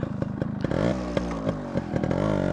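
Close and loud, the two-stroke engine of a Yamaha RX100 motorcycle is blipped in quick short bursts, its buzzy rasp rising and falling over a crackling idle.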